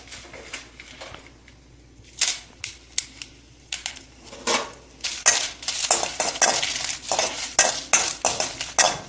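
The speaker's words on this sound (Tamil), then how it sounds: "மிளகா வறுத்துட்டேன், கருப்பே ஆகக்கூடாது" Dry red chillies roasting in oil in a pan for sambar, with repeated sharp scraping and clinking of a spoon stirring against the metal pan, sparse at first and then busier and louder.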